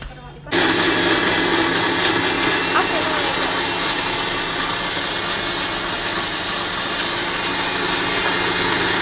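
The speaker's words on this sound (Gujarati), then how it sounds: "હવે એને છે ને દળવાનું એને મિક્સરમાં ફરીથી" A kitchen mixer grinder switches on after a brief quiet moment and whirs loudly and steadily, grinding a soaked batter for homemade vanilla ice cream.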